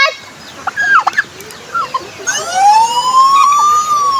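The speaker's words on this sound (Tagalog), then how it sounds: "Mga pabo." Turkeys gobble in loud, warbling calls that rise and fall in quick bursts, then a long wavering gobble stretches out over faint background noise.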